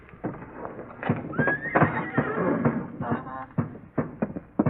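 Horses tied in barn stalls give a rising whinny amid snorts, shuffling and scattered hoof clops, moderately close and lively throughout.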